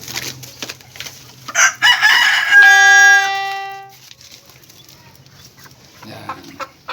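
A rooster crows loudly and close by on a small backyard chicken farm, one full harmonic crow over a steady low hum, followed by softer clucking and rustling.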